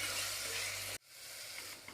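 Tomato sautéing with salt, turmeric, sambar powder and chili powder: a loud sizzle that cuts off abruptly midway, then a quieter steady frying hiss with small pops.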